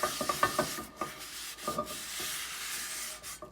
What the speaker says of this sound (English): I'm going to start rubbing it in here, rubbing the salt and the oil all around